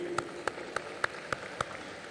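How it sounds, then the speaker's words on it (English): Audience at the closing ceremony of the 52nd International Film Festival of India claps in a handful of sharp, evenly spaced hand claps, fairly faint, over a soft room hum. "Let's give them a round of applause, ladies and gentlemen."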